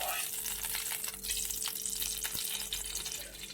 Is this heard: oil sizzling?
yes